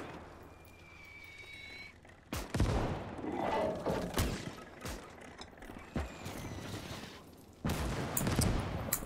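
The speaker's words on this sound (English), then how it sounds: "Why is he firing the wrong ammo?" Gunfire in the World War II video game Gates of Hell, set in Berlin, with several sharp shot bursts over a rumbling battlefield background, fairly quiet overall and with no talking.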